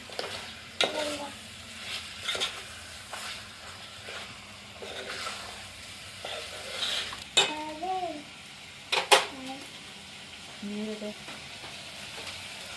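Onions and tomatoes sizzling in a pot with turmeric and salt, with repeated scrapes and clanks of a spoon stirring, close and moderately loud.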